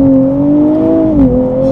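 A 2024 Nissan Z Nismo pulls away in first gear, its engine a loud, close, rising tonal drone that climbs briefly and then drops back, heard alone without talk.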